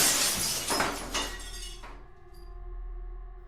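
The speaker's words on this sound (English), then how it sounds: "the glass door of my shower shattered" A glass shower door shatters in a loud burst of breaking glass that crashes for about two seconds, then drops off to a faint lingering ring.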